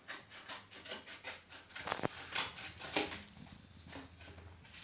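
Rackets being cut by hand so they sit firmer in play, giving a steady rubbing, sawing rasp with repeated strokes and a couple of sharper scrapes, close and fairly quiet, with no talking.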